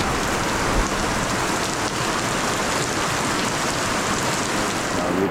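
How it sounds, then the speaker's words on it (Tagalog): Heavy rain pours down steadily near a hotel in the Philippines, a dense, loud hiss of drops hammering surfaces without letup and with no voices. "Lakas ng ulan."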